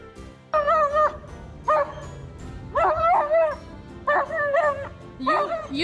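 Dog giving a series of high, whiny barks and yips, about five bursts close to the microphone over quiet background.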